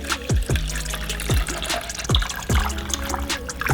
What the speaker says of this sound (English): Pour filtered water up to that level.